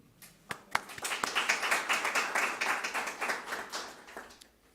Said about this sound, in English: this time you can relax and applaud each other